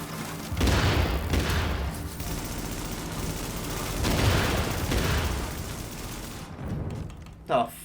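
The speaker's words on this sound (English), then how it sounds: "Sticky bomb and a grenade?" Sticky bomb and grenade explosions in The Division's Dark Zone PvP, a sustained roar of blasts and gunfire that swells twice, followed by a short loud burst near the end.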